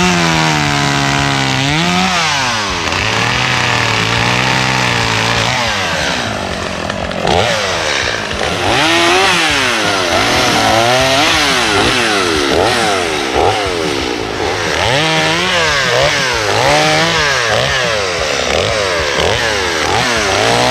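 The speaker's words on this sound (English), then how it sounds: "time to wrestle with the chainsaw" Chainsaw cutting up a pushed-over tree during overgrown land clearing, loud and close, its engine revving and bogging in repeated surges as the blade bites through the wood, with no talking over it.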